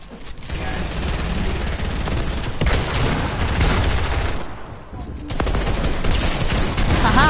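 Gunfire in a console shooter game crackles in dense, rapid bursts and volleys, loud and nearly continuous throughout, with a short lull midway and faint voices at times beneath it.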